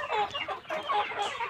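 Free-range village chickens cluck in short, overlapping bursts, close and fairly quiet, with no other sounds.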